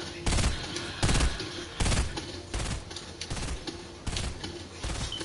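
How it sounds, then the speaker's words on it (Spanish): Bursts of rapid gunfire in Fortnite come in repeated loud volleys about every second, with sharp crackling shots and a faint voice underneath. "Yo creo que te estaban disparando"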